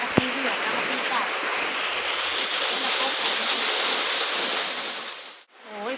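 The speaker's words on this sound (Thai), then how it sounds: "โอ้ยฝนตกลิน" Heavy rain pours down during a stormy morning in Laos, a dense, loud, continuous hiss of falling water that holds steady before briefly dipping near the end.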